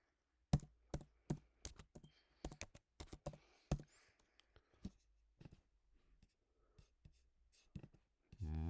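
Keystrokes on a computer keyboard as a phone number is typed in, a quick run of sharp, close clicks in bursts followed by sparser, softer taps, with no talking.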